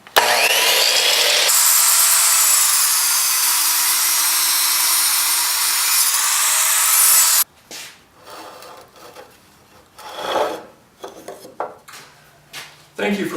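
A miter saw slices through wood at a 45-degree bevel, a loud, sustained screaming cut lasting several seconds that stops sharply, followed by quieter clatter and handling knocks.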